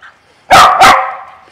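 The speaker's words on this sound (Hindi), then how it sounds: "इसको भौंक रहा है वो कि ये क्यों है" A dog gives two loud barks close by in a quick pair, the second trailing off into a faint whine.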